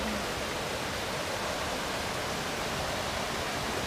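A small waterfall along the Ka'au Crater trail in Hawaii, heard as a steady, dense rush of falling water that stays constant and fairly loud throughout, with no voices.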